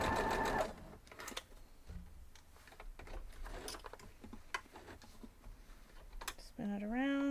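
A sewing machine stitches a quilt block in short, quiet bursts, with pauses and small handling noises between runs.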